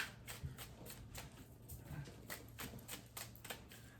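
A deck of cards is shuffled repeatedly in a quick, crisp rhythm of riffling bursts, close and fairly quiet, with no one talking.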